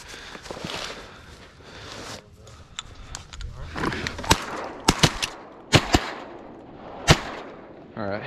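Shotgun blasts during a teal duck hunt from a duck boat blind, several sharp loud reports spaced irregularly over the second half, with rustling and movement noise in between.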